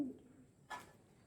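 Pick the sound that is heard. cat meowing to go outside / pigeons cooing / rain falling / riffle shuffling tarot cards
pigeons cooing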